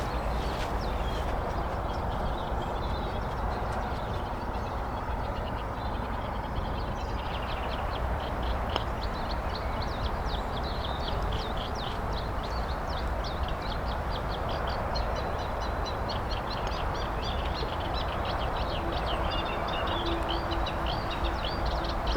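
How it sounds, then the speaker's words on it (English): Scratchy, chattering reed warbler song repeats in bursts over a constant low background rumble on a golf course, with no voices. "put off by the reed warbler"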